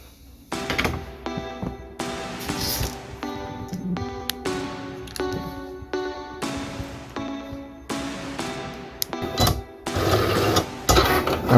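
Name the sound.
Cricut Air cutting machine cutting gold vinyl decal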